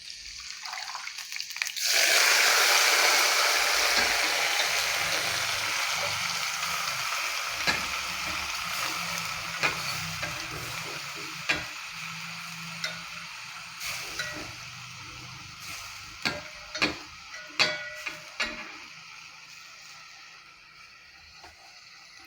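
Washed palak spinach hits a hot pan for a Karnataka-style palya: a loud sizzling rush bursts up and then slowly fades to a steady hiss, broken by scattered clinks and scrapes of stirring. No one talks.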